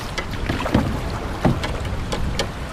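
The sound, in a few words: strong wind blowing outdoors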